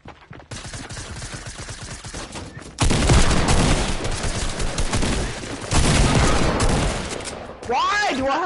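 Rapid bursts of shotgun fire in the video game Rainbow Six, loud and repeated in dense clusters with short gaps between volleys.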